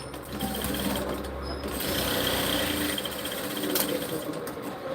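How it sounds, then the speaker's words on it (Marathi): A sewing machine runs a half-inch seam on a kurti, its steady mechanical whir and clatter continuing without pause, close up and with no voices. "आता मी अर्ध्या इंचावरती शिलाई केली आहे"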